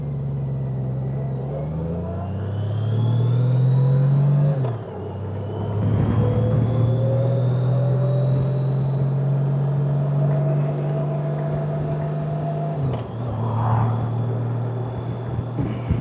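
A Honda Goldwing motorcycle on a Sunday cruise, its engine droning steadily with rising and falling pitch as it shifts through gears, loud and close with no talking.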